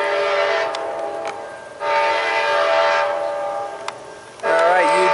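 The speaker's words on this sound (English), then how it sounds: "got the Amtrak, PO80, northbound by Selma, from the NS to the CXX track line" An Amtrak passenger train heads northbound through Selma on the CSX line, its horn blaring in long, loud, sustained blasts with brief gaps, and a final blast bending in pitch as it passes close by.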